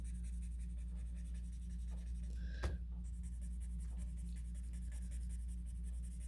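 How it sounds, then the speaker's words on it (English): A pencil blending stump rubbing over paper on a still-life value drawing, a faint, steady soft scratching and brushing close up, with one brief sharper tap partway through, over a low constant background hum. "with my blender, I'm going to go in and start blending these sections in"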